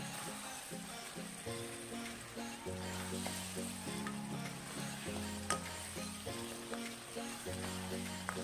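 Mutton frying on a high flame, a continuous close sizzle with stirring and occasional pops throughout, with a faint tonal hum running underneath; no talking.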